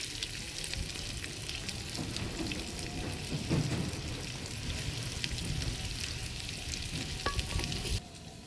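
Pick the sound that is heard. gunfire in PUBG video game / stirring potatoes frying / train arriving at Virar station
stirring potatoes frying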